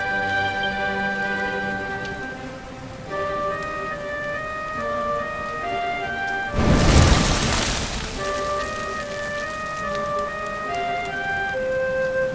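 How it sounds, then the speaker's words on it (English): Steady rain falls in the Dragon Quest 11 game world, a continuous hiss under sustained musical tones, swelling into a louder burst of downpour midway before settling back to a gentle patter. "Looks like the rain's dying down."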